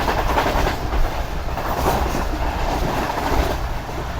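Pak Business Express train running on rails between Karachi and Lahore, a steady loud rumble of wheels and carriages with faint rhythmic clickety-clack, heard from inside the moving train with no voices.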